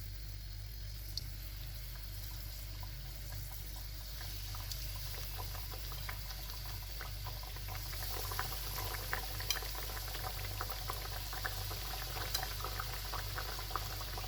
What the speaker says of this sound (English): I'll drop now these breaded slices of testicles.